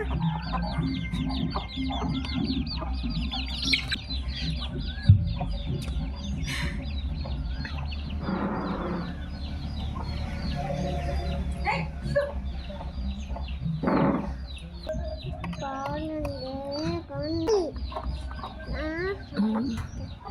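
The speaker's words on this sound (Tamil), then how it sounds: "கோழி" Native country chickens clucking and calling around a farmyard, with a person speaking intermittently nearby and steady background noise throughout.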